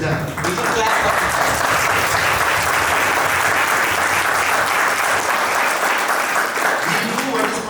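An audience at an international yoga summit claps loudly and steadily throughout, a dense, close wash of hands that holds to the end.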